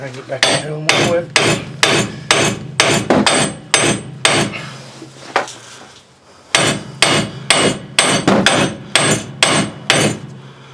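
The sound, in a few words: hammering on a seized wheel hub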